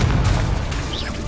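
A Confringo spell explodes in the Hogwarts Legacy video game, a short loud booming blast with dense low rumble lasting about a second.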